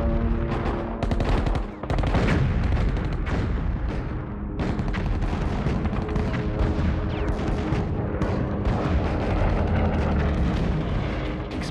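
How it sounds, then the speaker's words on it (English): Wartime dive-bomber attack on an aircraft carrier, with dense, continuous rattling gunfire and heavy explosions booming and overlapping for the whole stretch, loud and close with no pause. "Explosions sent a raging fire storming through the Kara."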